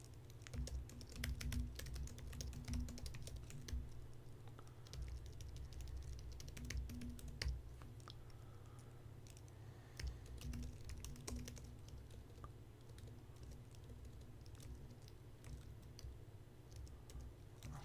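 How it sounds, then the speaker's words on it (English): Continuous typing on a computer keyboard during a live coding session, close and fairly quiet, with rapid irregular key clicks in bursts and short pauses and no talking. "doing what I'm typing"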